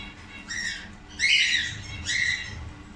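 Newly hatched lovebird chicks give three short bursts of high, scratchy squawking, close and moderately loud over low background noise.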